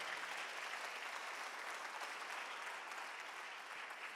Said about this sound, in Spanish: Den un gran aplauso al Señor por eso.